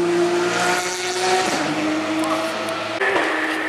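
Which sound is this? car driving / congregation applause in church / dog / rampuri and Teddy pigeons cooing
car driving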